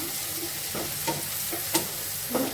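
Onions frying in a pan, a steady close sizzle broken by several scraping stirs of a utensil against the pan at irregular intervals.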